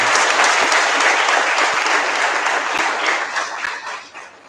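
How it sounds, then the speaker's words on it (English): An audience applauds a speaker at a seminar event, dense loud clapping from a crowd that holds steady and then begins to taper off toward the end. "let us give a big applause for him"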